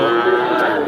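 A Friesian cow at a cattle market gives one long, low moo, loud and close, sustained for a moment with faint background noise.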